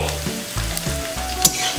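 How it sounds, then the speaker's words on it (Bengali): Chopped garlic and ginger fry in hot oil over high flame while chilli chicken is being made, giving a close, loud, steady sizzle broken by a few sharp crackles and stirring scrapes. "প্রথমে আমি তেলে কিছুটা রসুন কুচি দিচ্ছি আদা কুচি"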